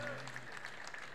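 Applause from an audience at the Hudson Cafe, a brief burst of clapping that blends with a speaking voice.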